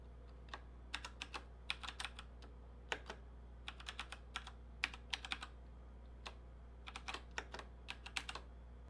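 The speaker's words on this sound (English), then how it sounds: "then type the following line" Quiet, close typing on a computer keyboard, with irregular clusters of crisp key clicks separated by short pauses and no talking.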